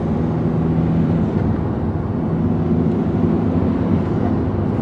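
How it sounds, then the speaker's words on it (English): Steady cabin drone of a Skoda Octavia vRS 2.0 TDi with an induction kit cruising at about 50, a low engine hum with a faint turbo whoosh carried over it, continuous and even throughout. "Cruising along at like 50 and you can just hear the turbo like spooling"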